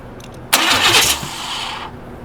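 The starter of a 1954 International Metro engine is bumped, giving a loud, close whirring crank that lasts just over a second and then drops to a lower hum.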